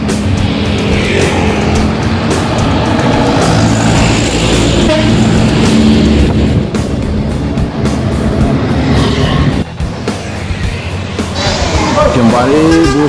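A Mior intercity bus heading toward Jakarta, a loud continuous engine and road roar with traffic noise and a horn-like toot, while someone talks over it.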